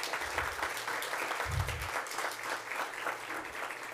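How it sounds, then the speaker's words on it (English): An audience applauds at an evening community briefing for National Hispanic Heritage Month, a steady wash of clapping that holds at an even level throughout without anyone speaking. "So I'd like to give her a round of applause as well."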